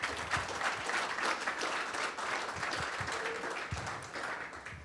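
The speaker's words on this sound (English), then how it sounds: "Give applause to the Wanchain team." An audience applauds a blockchain team at a town hall meeting, a fairly quiet, crowded patter of hand claps that goes on steadily, with a few closer, sharper claps standing out.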